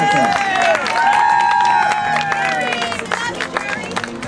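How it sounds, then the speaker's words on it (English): An outdoor crowd at a 2009 George Harrison birthday celebration in front of Capitol Records breaks into clapping and cheering, with a voice and a high whistling tone over it at the start before scattered applause takes over. "a big round of applause for Jerry, all the way in Santa Monica."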